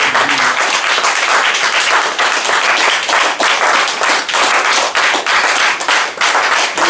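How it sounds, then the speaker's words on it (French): A church congregation applauds the word of God in loud, crowded clapping, many hands beating in a brisk, slightly rhythmic pattern that carries on steadily for several seconds. "Est-ce qu'on peut acclamer la parole de Dieu?"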